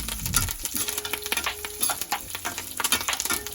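Curry leaves hit hot oil with small onions for tomato chutney, giving a steady close sizzle with stirring scrapes and a faint tonal hum underneath.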